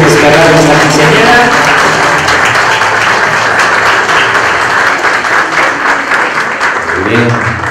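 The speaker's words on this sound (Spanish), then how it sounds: "Y los aplausos no se dejan de esperar a la quinceañera." Applause for a girl at a quinceañera celebration, a loud, broad wash of clapping from the guests that continues under a voice speaking at the start and end.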